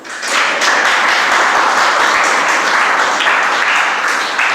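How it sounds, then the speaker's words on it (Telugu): Audience at a Telugu Christian sermon clapping together in a dense, steady round of applause, loud and sustained with no talk over it. "ఒక్కసారి చప్పట్లు కొట్టండి."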